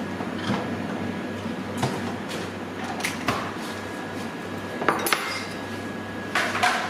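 Knife chopping bacon on a cutting board, a handful of sharp, separate taps spread across the stretch over a steady background hum; no talking.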